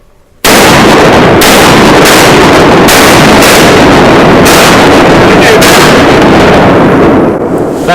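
Shotgun blasts at ducks during a duck hunt from a boat dock, a rapid run of loud, close booming shots fired several times in quick succession over eight seconds, each crack echoing out over the water.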